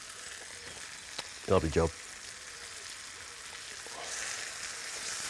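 Tomatoes and wine sizzle and bubble in a cooking pan as a steady frying hiss, with a brief spoken remark over it.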